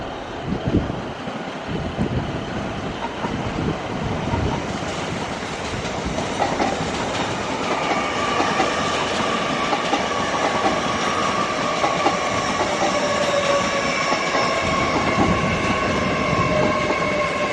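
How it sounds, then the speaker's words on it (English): A passenger train arriving from Sheffield rolls steadily into a station, its loud continuous wheel rumble and clatter giving way to rising tonal squeal as it brakes, with no talk. "That's 3 trains from Sheffield I've watched come in, and they've all been quite busy."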